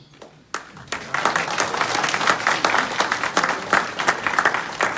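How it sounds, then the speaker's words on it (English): Audience applause fills a community monthly meeting as Building and Safety staff are welcomed forward. It follows a short quiet start and then swells into steady, dense clapping that runs on without a break. "Please give them a round of applause."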